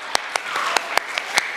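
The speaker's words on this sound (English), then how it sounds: "let's give them a round of applause." A small group of children at a kids' Bible camp closing performance claps, a few sparse, distinct claps in a quiet room, fairly faint and brief.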